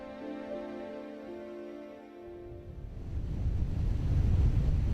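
Strong waves and gusting wind batter a small island off Jeju after a typhoon, beginning with a steady tonal drone before broad surf rumble and wind swell louder toward the end.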